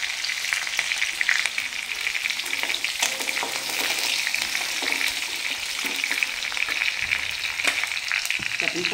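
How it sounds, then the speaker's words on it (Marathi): Curry leaves and green chilies sizzle in hot oil in a pan as poha is cooked, a steady, loud, bright crackle with occasional stirring scrapes, no voices. "मिरच्या एक अर्धा मिनिट परतून घेतल्यावर आपण कढीपत्ता टाकणार आहोत त्याच्यात"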